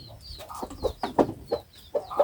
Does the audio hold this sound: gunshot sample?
no